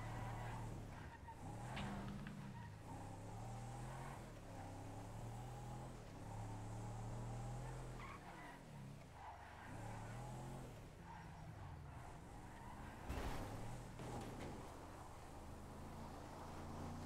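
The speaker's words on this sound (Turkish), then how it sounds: "Çıkan bir araba var." Car in a Turkish-played police video game driving off, a steady engine drone with shifting pitch and a brief tire squeal, faint and distant with no voices over it.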